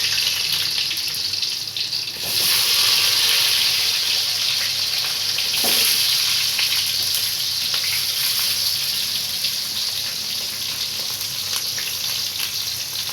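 Chopped small and large onions fry in a pan for a South Indian drumstick tamarind curry, giving a loud, steady broadband sizzle close by that swells briefly at a couple of points.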